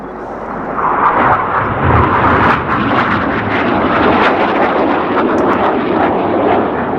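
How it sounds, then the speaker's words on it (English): Seven RAF Red Arrows-style aerobatic display jets taking off together at the RAF Cosford Airshow, a loud sustained roar of jet engines with crackling bursts that holds steady throughout. "Up go the 7 aircraft, Red 6 and 7 staying low"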